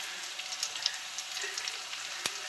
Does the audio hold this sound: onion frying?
yes